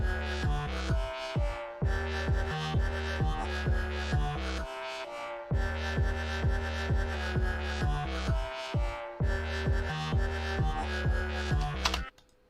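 A produced music mix of layered synths over sub bass, with a punchy kick driving a steady rhythm, dense and loud throughout before cutting off abruptly near the end.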